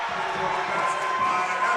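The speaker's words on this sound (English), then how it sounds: "Crowd getting into it" A home crowd at a men's college basketball game between Kalamazoo and Olivet, roaring steadily as a broad, sustained wash of cheering, with an announcer talking over it.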